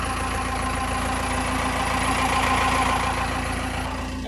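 A Cummins 4BT diesel engine with a new injector pump idles on a cold 28-degree morning just after a cold start, a steady, loud, close rumble with a faint knocking rhythm running unchanged throughout.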